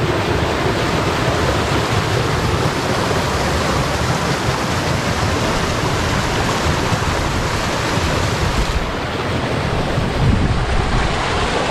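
Creek water rushes through a newly installed culvert after heavy rain from Hurricane Floyd, a loud, continuous broadband roar of flowing water heard close up, steady from start to finish with no voices.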